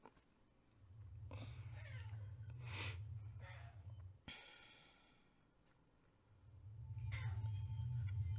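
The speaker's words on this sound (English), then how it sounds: "That is my cat" A pet cat meows several times, drawn-out, strained calls up close, with a low rumbling hum beneath and quieter gaps between them.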